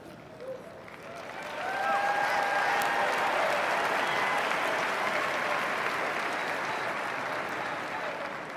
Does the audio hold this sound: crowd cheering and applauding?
yes